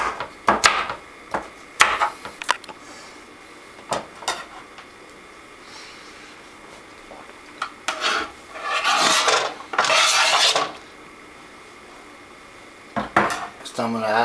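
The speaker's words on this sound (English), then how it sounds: "So maybe just cut it into pieces like that." Knife chopping butternut squash into pieces on a board: sharp clustered chops and scraping rasps, close and loud, in irregular bursts with pauses between.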